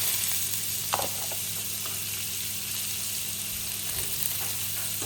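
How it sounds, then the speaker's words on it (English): Butter sizzles steadily in a hot pan with mushrooms and asparagus, a constant close frying hiss with a couple of faint stirring scrapes and no talk. "all we're going to do is we're going to add some butter to the pan"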